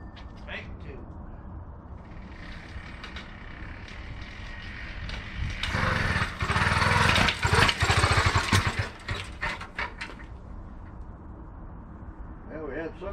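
A new bicycle motor kit engine sputters into ignition, with a rough burst of engine noise in the middle that fades back to quieter background.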